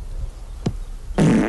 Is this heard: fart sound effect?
yes